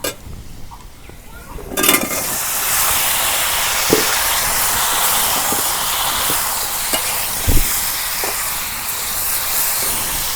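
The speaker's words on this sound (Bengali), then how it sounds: "সোমবার আইসে, এখন বাগার দিয়ে দিই।" Spices tempering in hot oil for a Gorai fish curry with pointed gourd (potol) give off a loud, steady sizzling hiss that starts after a brief quiet moment, with a few soft clinks and knocks in the pan.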